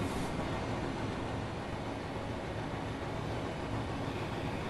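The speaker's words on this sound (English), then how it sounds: "here is the RailHead treatment train" A railhead treatment train runs in Train Sim World 3, giving a steady, dense rumble and hiss that holds at an even level throughout.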